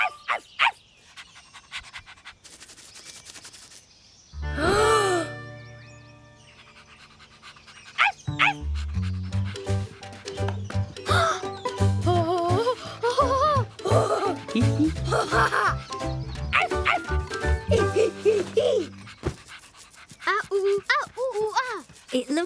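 A dog pants rapidly and barks, mixed with whistling tones and busy musical sounds, fairly close and lively.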